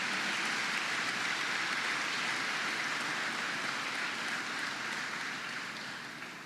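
Large crowd at the Fort Hood army post applauding civilian personnel, a dense, steady wash of clapping that fills the whole stretch and fades slightly toward the end.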